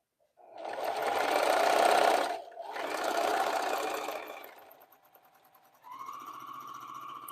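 A sewing machine stitching a quilt border runs in two steady bursts, pausing briefly between them, then drops to a quiet idle before a higher, smoother motor hum starts near the end.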